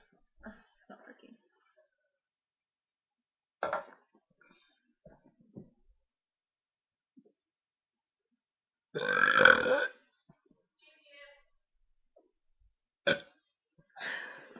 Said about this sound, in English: there's a little bit of my burping.